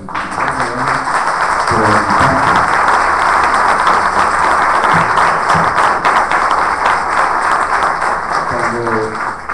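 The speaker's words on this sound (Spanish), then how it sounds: "Y empecemos con otro aplausito" Sustained audience applause at a tribute event for an educator, dense and fairly loud clapping that continues throughout, with brief voices surfacing beneath it.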